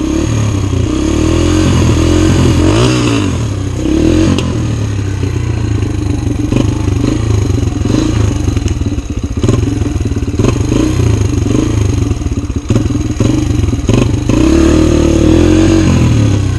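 A Kawasaki KX125 dirt bike rides a muddy trail, its engine loud and close throughout, rising and falling in repeated revs with clattering and scraping from the bike.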